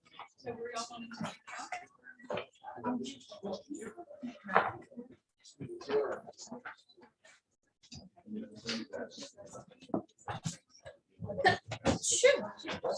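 A single short sneeze bursts out near the end of a Zoom meeting for a judge's court, among several people talking.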